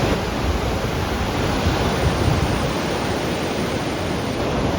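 Pacific Ocean surf breaking steadily at Black's Beach in La Jolla, below the cliffs, a continuous broad wash of waves with no voices.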